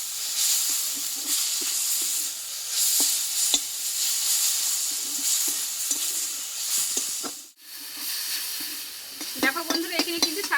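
Water lily flowers fry with spices in a pan, giving a steady close sizzle and hiss broken by scraping stirs, with a short dip near the end before the frying resumes.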